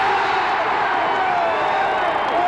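Football crowd cheering in a stadium at a 1988 Buffalo Bills playoff game against the Oilers, a steady, dense roar of many voices throughout.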